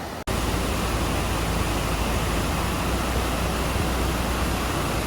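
Swollen river rushing after days of rain near an eco-tourism complex in the Darjeeling hills, a steady loud broadband roar of flowing water that fills the whole stretch without pause, no voices.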